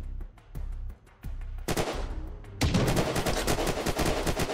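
Gunfire in the survival game Unturned starts as spaced single shots and builds into rapid, dense automatic bursts that grow louder toward the end, with no talking over it.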